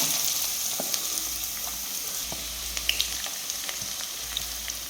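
Finely chopped onions and green chillies fry in hot oil in a kadai, a steady close crackling sizzle dotted with small pops and occasional spatula taps, with no voices.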